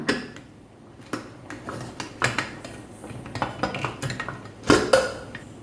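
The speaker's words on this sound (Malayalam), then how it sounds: "നമുക്ക് കുക്കർ തുറന്ന് നോക്കാം ആ വെന്തിട്ടുണ്ടോ നോക്കാം" A pressure cooker is opened in a home kitchen while making a Kerala green gram payasam, with metal lid handling, scrapes and a series of sharp pot and utensil clinks, moderately close and uneven in rhythm.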